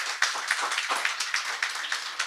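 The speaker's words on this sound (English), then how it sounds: "Let's give him a round of applause" A small audience claps for a chef at a live cooking demonstration, with sparse, uneven individual claps in a quiet room.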